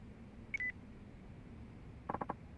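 A phone ringing in the video game Yakuza 4, heard as a short burst of three or four quick electronic beeps near the end, preceded by a brief higher tone over steady background music.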